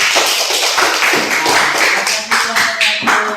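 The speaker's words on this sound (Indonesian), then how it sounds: "kita berikan tepuk tangan kepada kelompok 1" Classroom applause for a student group, brisk close clapping from several people with sharp individual claps standing out in an uneven rhythm, and voices underneath.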